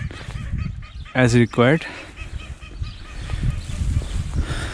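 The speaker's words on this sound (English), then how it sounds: "these ducks are having some fun in the ice, in the icy cold water" Loud honking quacks from ducks on icy canal water burst out in a short run, over a background of outdoor noise and brief talking, in a Dutch fishing village.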